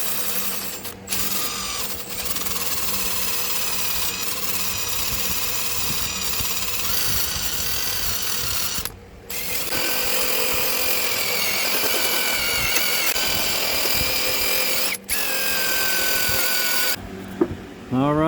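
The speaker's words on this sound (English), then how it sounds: "Usually I use like these wire wheels." A grinder fitted with a wire wheel scrubbing metal on a Freightliner Columbia semi truck, a loud close whine running in long sustained stretches with brief pauses and pitch dips as the tool bites and is lifted off.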